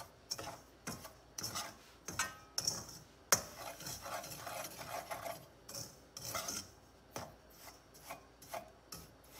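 Semolina is stirred and roasted in a pan over a low flame for suji halwa. A spoon makes repeated rasping scrapes against the pan in an uneven rhythm, close and fairly quiet.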